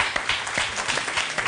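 A studio audience applauds, a steady wash of many hands clapping at close range with no break for its full length.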